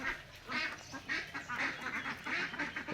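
Ducks quack on a farm, a busy run of repeated nasal quacks overlapping one another, close and fairly loud over a low background murmur.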